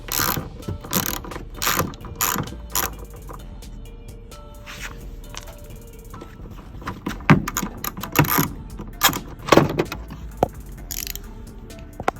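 A ratchet with a 10 mm socket works on the tail light of a 2013-2017 BMW 328i, giving bursts of quick clicking and clattering handling noises, close and uneven, with no voices.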